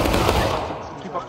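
Musket volley fire in the Civil War game War of Rights bursts out as a dense, loud crackle of overlapping shots that tapers off quickly.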